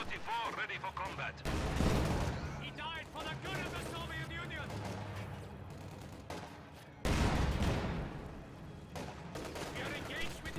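Company of Heroes battle with a Panzer IV and T-34 tanks: heavy cannon blasts and explosions boom twice, loud and close, amid continuous chattering gunfire, with a commentator's voice running over the top.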